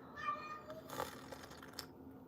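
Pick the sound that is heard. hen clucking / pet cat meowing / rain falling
pet cat meowing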